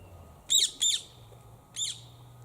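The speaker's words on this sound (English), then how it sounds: "That sounds like the Indian ringneck." An Indian ringneck parrot in a tree gives three sharp, harsh squawks: two close together, then a third after a pause. The calls are moderately near and stand out over a quiet outdoor background.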